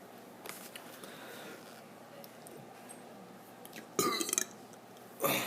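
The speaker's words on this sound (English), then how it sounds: "So 5 more burps and then I'm ending." A person burping: faint mouth sounds early on, then a loud, rough burp near the end followed by another short burst, close to the microphone with no talking.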